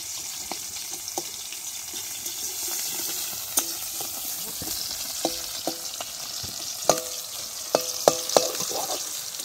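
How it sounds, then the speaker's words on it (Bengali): Chopped onions fry in a pan while cooking on a boat on a river, giving a steady soft sizzle broken by scattered metallic clinks and scrapes of stirring. "পেঁয়াজটা ভাজা হয়ে গেলে কচুরমুখিটা দেবো।"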